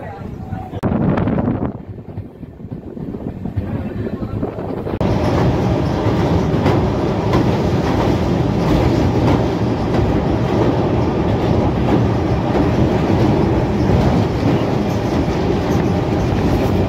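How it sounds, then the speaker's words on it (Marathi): The Rani Chennamma Express pulls out of Raibag railway station on the Londa to Miraj route, giving a loud, steady rumble and rolling clatter of carriages heard from on board that continues throughout. "रायबाग रेल्वे स्टेशनवरून आपली ट्रेन निघालेली आहे"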